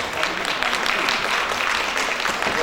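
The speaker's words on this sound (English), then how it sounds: "a big round of applause" Conference audience at a national education policy inauguration applauding the delegates, a dense, steady wash of clapping held at even loudness throughout.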